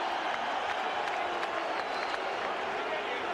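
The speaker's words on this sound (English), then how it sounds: "Well, the crowd are on Klitschko's side." A boxing arena crowd at a controversial heavyweight title fight applauds and cheers in a dense, continuous roar, loud throughout with scattered sharper claps.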